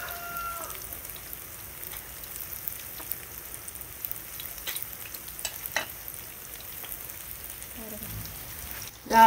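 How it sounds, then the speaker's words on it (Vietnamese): A braising sauce for vegetarian ribs bubbles at a low, steady boil, giving a faint, continuous sizzle with scattered soft pops and ticks and no voices over it. "Chúng ta để cho nó sôi và nó kẹo cái nước khìa của mình"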